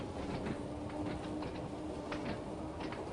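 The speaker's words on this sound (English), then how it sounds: "I'll pass another train there." Rumbling rail noise of a passing train in the Train Sim World 2 simulator on the Isle of Wight line, a steady low roar with faint clicking over about three seconds, no talk.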